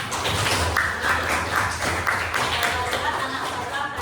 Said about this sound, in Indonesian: kita kasih tepuk tangan untuk kita semua dulu